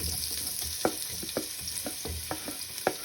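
Onions go into a pan where ginger is already frying, producing a soft steady sizzle with several sharp scraping stir strokes in quick succession, close and fairly quiet, with no talking.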